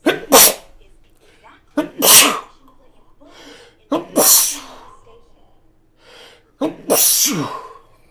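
Four sharp sneezes in a row, close and loud, separated by short pauses with a bit of breathing between them.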